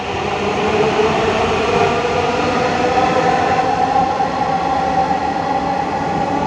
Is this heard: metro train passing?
yes